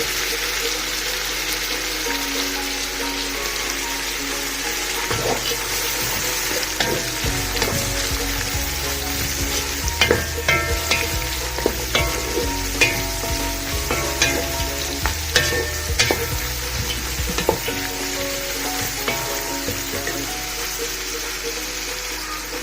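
Carrots fry and get stirred in a pot with a steady sizzle, broken by scraping and clattering stir strokes that come and go throughout, close and fairly loud.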